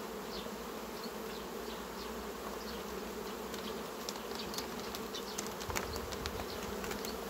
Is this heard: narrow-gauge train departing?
no